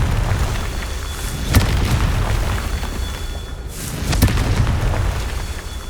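Confringo blasting-curse explosions in Hogwarts Legacy: two sharp booms about three seconds apart over a steady rumbling game background, each a sudden bright burst fading quickly, with no voices.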